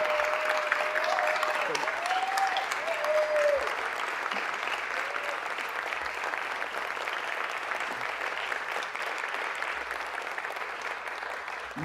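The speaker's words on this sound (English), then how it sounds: "let's give her a round of applause for her dedication, hard work, and commitment to our city" Sustained applause from a city council meeting audience in Los Angeles, dense and continuous throughout, with a faint voice or whistle-like tone drifting underneath early on.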